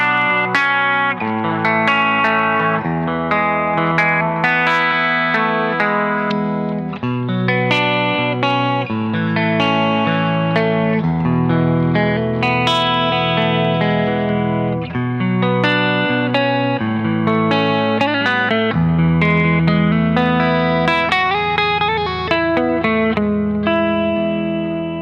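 Electric guitar with humbucker pickups played through a BOSS GT-8 multi-effects unit on a crunchy distortion tone, strummed chords and picked notes ringing out alone and loud, layered with chorus, delay and reverb throughout.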